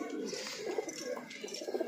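Breeder pigeons coo softly and close by, a few low, rolling, overlapping calls in a quiet indoor setting.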